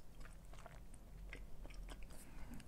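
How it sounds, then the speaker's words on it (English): Someone chewing tapioca pearls from a Thai milk bubble tea, close up, with moist irregular squishy bites and faint crunchy clicks spread steadily over a couple of seconds, no talking. "Them tapioca pearls, man, gotta chew them."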